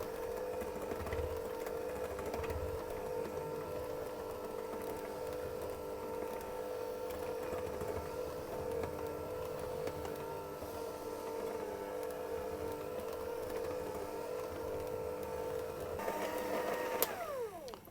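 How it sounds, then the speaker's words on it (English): A kitchen stand mixer works alfajores biscuit dough on low speed, a steady continuous hum and whir held at an even level throughout, with a faint rising whine near the end. "I'm going to simply mix this on a low speed until it's all combined and clumping together."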